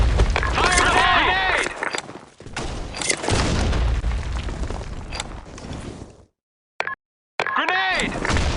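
Grenade blasts and gunfire in the online shooter BlackShot, a loud continuous barrage of booms and shots with voiced radio callouts over it, cutting briefly to silence near the end before the battle noise resumes.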